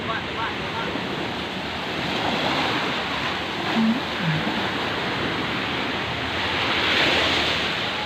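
Sea waves roll onto a crowded swimming beach where the water is rough, a broad continuous surf roar mixed with wind buffeting the microphone, with faint voices in the background.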